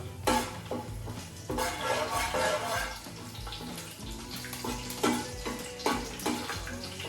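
A spoon stirs cumin into spices in oil in a pan for a village-style chicken curry, with repeated scraping and clinking strokes against the metal, fairly close and uneven in rhythm, with no talk.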